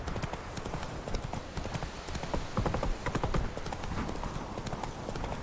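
A horse's hooves clip-clop steadily and close in the video game The Witcher 3, the quick rhythmic beats continuing throughout over a soft, busy outdoor backdrop.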